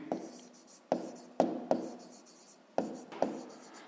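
Pen writing a math solution on paper, with short scratchy strokes in bursts of about six distinct pen movements, close and fairly quiet, with no voice.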